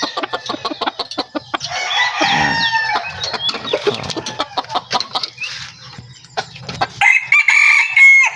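Labuyo and bantam chickens, including a mixed-breed labuyo and a Chinese talisayin bantam, cluck and crow close by in a busy, overlapping chorus, with a loud rooster crow near the end.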